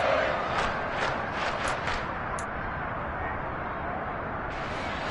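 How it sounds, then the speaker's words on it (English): A stadium crowd in a football video game gives a broad, steady roar that stays at moderate level throughout, with a few brief higher shouts near the start. "the crowd getting into it as we come up on a big 3rd down"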